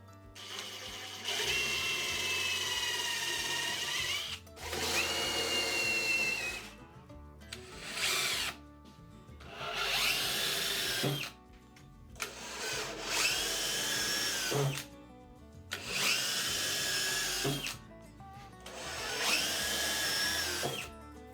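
Power drill driving hidden fasteners into composite decking boards on outside joists, heard as several loud, close whining bursts of a few seconds each, separated by short pauses.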